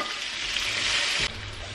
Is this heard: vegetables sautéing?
yes